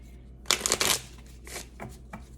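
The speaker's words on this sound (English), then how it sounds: "So I'm gonna shuffle this deck, cut them up, and set them to the side" Tarot cards shuffled by hand in a few quick riffling bursts, a dense flurry at the start and shorter softer rustles after, close and alone with no talking.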